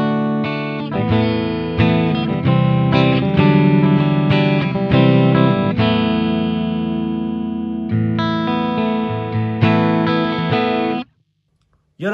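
An electric guitar rings through an amplifier's clean channel on a pedalboard rig, playing chords and picked notes with a full, ringing tone, then cuts off abruptly near the end.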